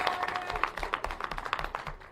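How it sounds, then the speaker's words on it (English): A live audience claps through a motivational speech, a dense patter of hands that fades slightly toward the end. "let's give ourselves a round of applause one more time for being here"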